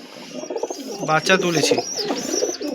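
Pigeons coo nearby in soft, throaty, rolling calls, with a few higher chirps mixed in.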